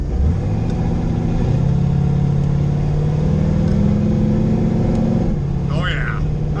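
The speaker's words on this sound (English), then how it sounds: "out for our first drive in this thing with the new trans" A car with a freshly rebuilt TH400 automatic transmission pulls away in first gear, its engine droning loud and close with a pitch that climbs slightly and then settles. A voice speaks briefly over it.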